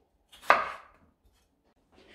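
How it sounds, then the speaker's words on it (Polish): A knife cuts potatoes into halves for a vegetable dish, making one sharp chop against a cutting board followed by quiet, with a faint rustle near the end. "Ziemniaczki kroimy na połówki"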